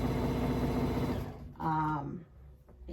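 Sewing machine running while quilting a table runner, a steady loud mechanical whir for just over a second before it stops, followed by a brief tonal sound and quieter room noise.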